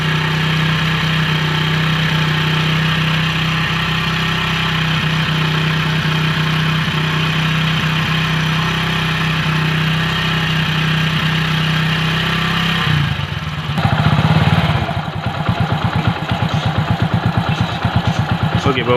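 A motorcycle engine idles steadily during an engine flush, a close, constant mechanical hum that turns rougher and more uneven partway through.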